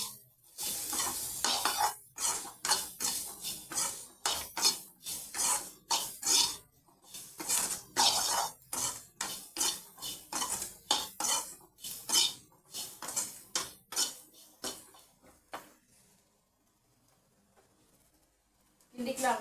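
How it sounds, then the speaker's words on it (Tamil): Boiled, peeled groundnuts being stirred with a spoon in a pan, giving repeated scraping and clinking strokes in an irregular rhythm with a soft sizzle beneath, up close, pausing near the end. "வேக வச்சு உரிச்சு வச்ச கடலை நல்லா கிண்டிக்கலாம்."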